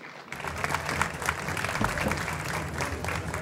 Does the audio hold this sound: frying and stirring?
no